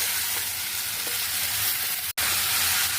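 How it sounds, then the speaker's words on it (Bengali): Close, continuous crackling sizzle of vegetables frying in a pan with faint stirring scrapes, broken once by a brief dropout before the frying resumes. "এবার সবজিগুলো ভালো করে ভাজা ভাজা করে নেব"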